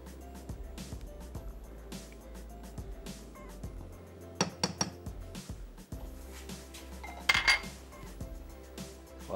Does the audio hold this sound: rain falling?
no